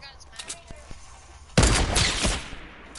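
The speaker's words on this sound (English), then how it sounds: "Oh, I got sniped from behind." A sniper shot rings out in a PS4 online shooter game, a sudden loud burst partway through followed by a sustained roar of gunfire and action, after quieter in-game sounds and faint clicks.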